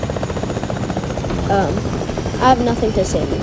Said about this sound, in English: Okay, that is a helicopter.